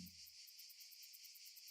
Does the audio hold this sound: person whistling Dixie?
no